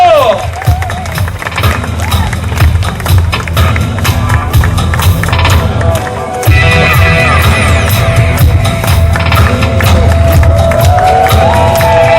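At a forest concert, an outdoor audience applauds and cheers for a singer, dense continuous clapping and crowd noise that swells louder partway through, with voices mixed in.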